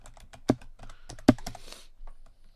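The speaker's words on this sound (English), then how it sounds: "let's go ahead and backspace it out" Sharp plastic keystrokes on a computer keyboard, with a few soft taps and two harder, louder presses as text is backspaced out in Photoshop, close and alone.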